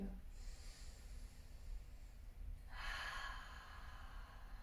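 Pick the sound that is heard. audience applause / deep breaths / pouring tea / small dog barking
deep breaths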